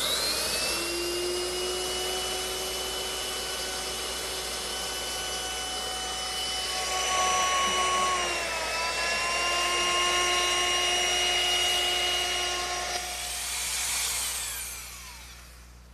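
A router shapes a quarter-round edge on a wooden rocking horse, a steady high whine running loud and close for about thirteen seconds, dipping briefly in pitch as it cuts, then spinning down.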